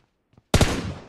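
Loud burst of gunfire in the mobile battle royale game PUBG Mobile: after two faint soft taps, a sudden sharp volley erupts and rings on with a decaying, crackling tail.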